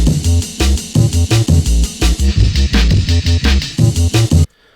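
Dirty, distorted 808-style bass clips in a drum and bass remix, playing a choppy new pattern over a busy breakbeat: loud, pulsing low notes in rapid stabs with crisp percussion on top, cutting off abruptly.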